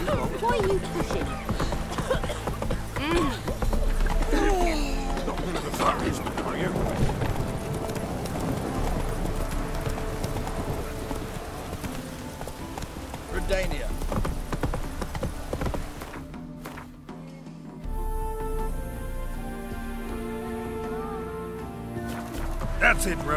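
Roach the horse gallops in The Witcher 3 Next Gen, steady clip-clop hoofbeats running nearly throughout with an occasional whinny, under game music and ambience, thinning briefly near the end.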